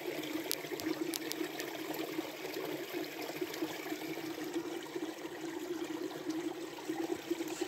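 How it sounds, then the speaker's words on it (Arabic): Spring water from Arbel Spring (Ein Arbel) near the Horns of Hattin wells up out of the ground, giving a steady, close trickling and gurgling flow that runs on without pause and carries no voices. "شايفين المي طالعة"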